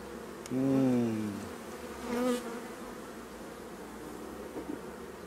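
Honeybees buzz close by at an opened hive in spring, in a couple of rising and falling drones, over a soft, steady background hum.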